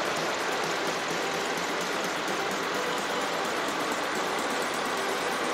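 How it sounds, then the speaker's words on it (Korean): A used Hyundai YF Sonata LPI car engine idles with a steady, even hum and faint rhythmic ticking, continuous and close, with no talking. "엔진 소리 일정하고 좋습니다."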